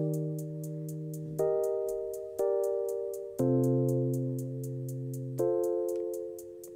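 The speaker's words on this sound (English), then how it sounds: "So the first hat sounds like this, and here we're playing eighth notes" A closed hi-hat ticks steadily in crisp eighth notes as part of a beat, riding over sustained electric piano chords that change every second or so, with no talking.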